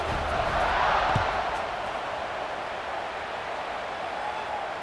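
A college football stadium crowd cheering at kickoff, a broad, sustained roar filling the space, swelling early then settling into a steady distant wash of noise.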